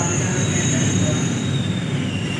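A Delhi Metro Pink Line train at Majlis Park station gives off a steady loud rumble of wheels and motors, with thin high squeals overhead and a dense noisy wash throughout the short stretch.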